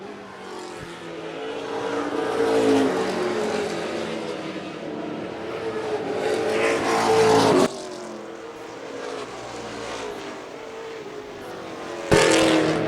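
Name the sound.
Pro Stock race cars racing on track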